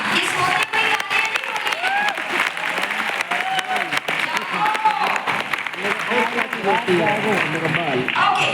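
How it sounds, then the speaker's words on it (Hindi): An audience at a beauty product training session claps loudly and steadily for the whole stretch, and voices mix in with the dense applause. "एक बार जोरदार तालियां हो जाए।"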